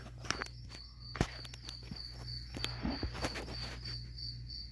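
Crickets chirp steadily in a high, continuous drone, with scattered close rustles and footstep-like thumps over the top.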